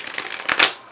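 A short, close burst of tarot cards being shuffled, papery riffling swelling into two louder flicks before fading, with no talking.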